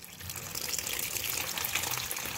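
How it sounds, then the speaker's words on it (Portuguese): Water pours steadily into a basin to rinse a freshly dyed garment, a continuous splashing gush close to the microphone with no talking. "E aí eu vou colocar água pra enxaguar"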